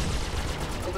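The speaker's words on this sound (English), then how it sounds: "Listen to that. Sounds like an AT-AT gun." Heavy ship cannon fire in the Star Citizen space game, a deep booming barrage like an AT-AT walker's gun, rumbling continuously and loud throughout with dense low-end punches.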